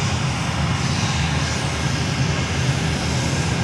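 A JetBlue airliner's jet engines roar at Fort Lauderdale-Hollywood International Airport, a steady, loud, broad rumble with no talking.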